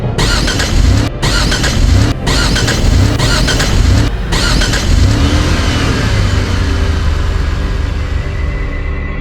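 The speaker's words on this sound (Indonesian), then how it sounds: "Rudi mencoba menghidupkan mesin dengan panik." A car starter cranks the engine over and over in a frantic attempt to start it during a tense Lebaran homecoming drive, loud and close, in a steady churning rhythm broken by a few short cutoffs.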